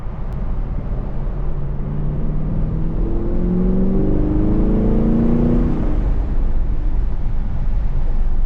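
A 2022 Honda Civic Si engine revs up and falls back, a steady low drone swelling through the middle and easing off, heard alone without talk.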